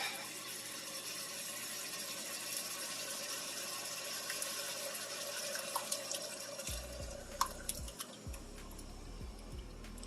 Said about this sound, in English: I'm going to go ahead and start adding my tomatoes. very slowly.